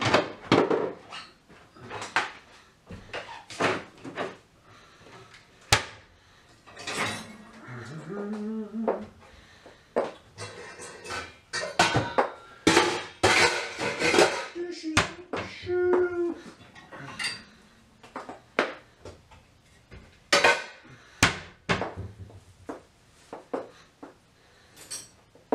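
Dishes being washed by hand at a sink make a long run of irregular clinks, clatters and knocks of plates, pots and cutlery, some close and sharp, with occasional voices under the clatter.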